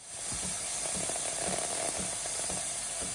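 A Sage Barista Express steam wand froths milk for a cappuccino, giving a steady, close hiss with a faint rhythmic gurgling pulse underneath, continuous for the whole span.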